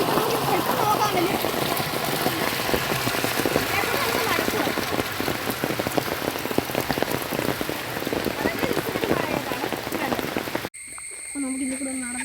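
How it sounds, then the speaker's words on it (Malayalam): A small waterfall flows near a house with a dense, continuous rushing and splashing of water. The sound stays fairly loud and even, then cuts off abruptly near the end, where a quieter, different sound takes over. "ഇവിടെ ഇത് ചെറിയൊരു വെള്ളച്ചാട്ടമാണ് കേട്ടോ, അത് വലിയ വെള്ളച്ചാട്ടം."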